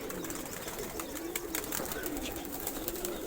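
Many domestic pigeons of assorted breeds coo together in a soft, continuous burble, with a few brief clicks and no voices.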